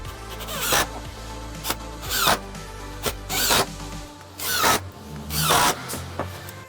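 A power screwdriver drives screws to cinch glued blocks onto wooden deck stairs, giving several short, close whirring bursts separated by brief pauses, with no talking.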